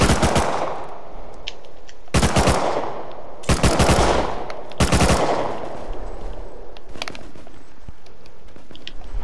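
Automatic gunfire in the survival game Rust: four loud, close bursts of rapid shots spaced a second or two apart, each trailing off, followed by quieter ambient game noise.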